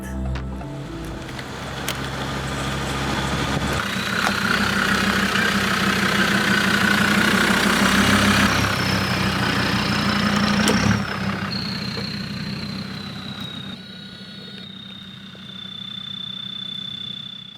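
A Land Rover Defender drives off the main roads into nature, its engine a steady, moderately loud drone with a whining tone and rumbling road noise that eases toward the end.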